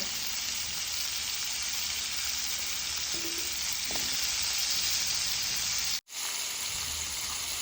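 Steady, loud sizzling of chicken and potatoes frying in a hot pan, continuous throughout with a brief dropout near the end.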